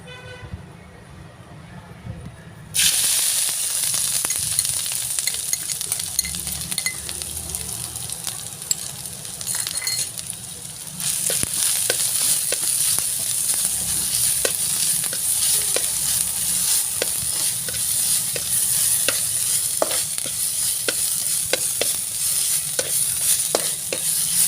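Spicy chicken pieces stir-fry in hot oil in a heated pan, a loud continuous sizzle with scraping stirring ticks, rising sharply after a few seconds and intensifying again midway, with no talk.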